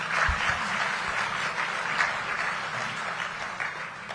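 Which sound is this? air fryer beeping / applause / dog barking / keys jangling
applause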